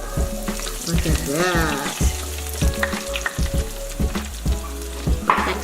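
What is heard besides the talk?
vegan fried chicken frying in basket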